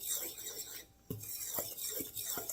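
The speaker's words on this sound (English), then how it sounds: "I'm just going to take a fork and kind of pre-mix up the dry ingredients" A fork stirring dry pancake ingredients in a bowl, quiet close-up scraping and rasping with a few light clinks against the bowl.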